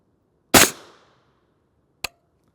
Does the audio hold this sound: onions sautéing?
no